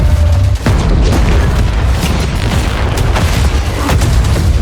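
Battlefield 6 video game trailer: explosions and booms rumble loudly one after another, with bursts and crackles layered over a dense, continuous din.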